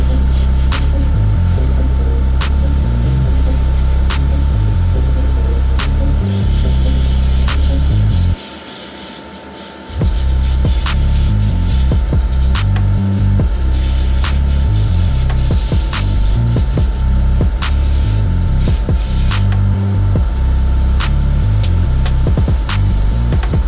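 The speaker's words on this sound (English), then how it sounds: "I first use air to blow off the dust, and then I spray my base coat." Airbrush hiss as compressed air and then base coat paint are sprayed onto a Tamiya Lamborghini Countach LP400 model car body, a steady close spray with a brief pause partway through before resuming.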